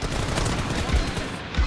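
Shotgun fire in BGMI, a mobile battle royale game, heard as dense gunfire and blasts packed together, loud and close, with game noise filling the background.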